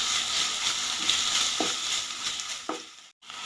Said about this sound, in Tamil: இதை நல்லா பச்சை வாசனை போகிற வரலும் நல்லா வதக்கி எடுத்துக்கலாம்.